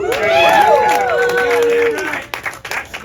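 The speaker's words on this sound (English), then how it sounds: "That's more applause than it got at the time." Crowd applause and cheering during a wrestling story, with loud whoops and shouting voices rising and falling over the clapping before it breaks into scattered claps and fades.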